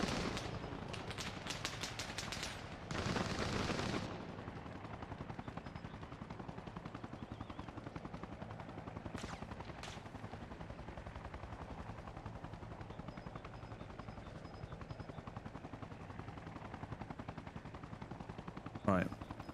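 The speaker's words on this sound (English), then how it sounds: "What's he shooting at?" Gunfire in Arma Reforger during milsim training, with dense rapid shots in the opening seconds followed by a few sparse, more distant reports and a final sharp crack, under an ongoing low rumble with occasional talk.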